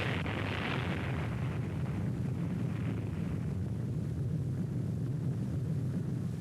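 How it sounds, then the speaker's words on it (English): A 1946 atomic bomb explosion at Bikini Lagoon, recorded from an observer ship about 20 miles away: a continuous deep roar and rumble with a hissing upper wash that slowly fades, heavy and sustained rather than a sharp crack. "you will see 2 views of the atomic bomb explosion taken from the observer ships approximately 20 miles from Bikini Lagoon."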